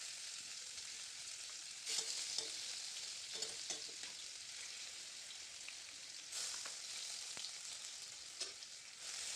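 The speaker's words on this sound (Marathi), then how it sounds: "तेल चांगलं तापलं की यामध्ये तेजपान, कलमी, जिरं, मोहरी आणि हे वाटण घालायचं।" Bay leaf, cinnamon, cumin, mustard seeds and a ground spice paste fry in hot oil with a steady close hiss. Crackles and stirring scrapes break through it now and then, with no voices.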